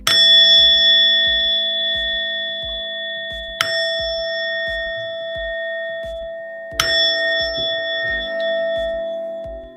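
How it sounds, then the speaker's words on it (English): A meditation bell is struck three times, each ring a clear metallic tone that blooms and hangs in the air, slowly fading until the next strike, with a steady low rhythmic thumping running underneath. "I am going to ring my bell out."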